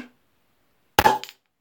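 A single sharp pop as a lively carbonated homebrew beer bottle is opened, one brief loud burst with a short fizzy tail, then silence.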